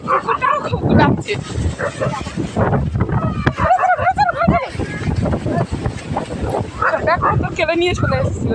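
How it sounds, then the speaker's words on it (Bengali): A dog barks and yips repeatedly at close range as a storm rolls in, its calls coming in bursts mixed with whimpers while people talk loudly nearby. "কুকুরটাও খুব ডাকছে"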